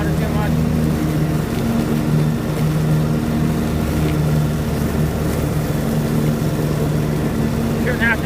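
A John Deere tractor brush hogging tall brush, its engine a steady, low rumbling drone throughout, with the mower's churn underneath and a voice occasionally audible over the machinery.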